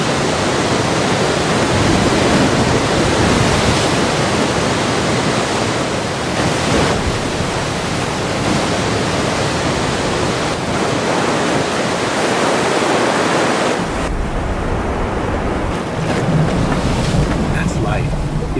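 River rapids in the Grand Canyon during a rafting trip, a loud, dense, unbroken roar of rushing white water that fills the whole stretch and eases slightly near the end.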